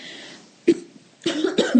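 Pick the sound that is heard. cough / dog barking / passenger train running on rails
cough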